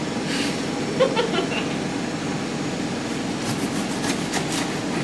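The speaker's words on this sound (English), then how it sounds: "apologies with the washing machine" A washing machine runs with a steady mechanical whirring and rumbling hum, with occasional faint clicks and soft knocks over it.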